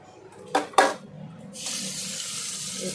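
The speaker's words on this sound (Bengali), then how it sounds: "ওইটাতে দেখো জল দিয়ে ধুয়ে নেব।" Running tap water splashing as food is rinsed in a kitchen sink, a couple of sharp clatters first, then a steady close hiss of flowing water.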